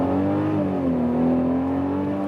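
A 2020 Mercedes GLC 300 in sports mode accelerates hard, its engine note rising in a smooth, continuous whirring drone that dips slightly and climbs again, close and steady throughout with no talk.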